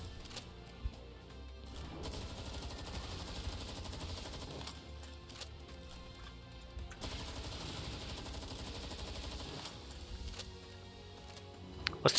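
Shotgun fire in the Palworld video game, heard as dense, continuous game combat with bursts of gunfire and crashing impacts in a loud, busy mix, with no talk.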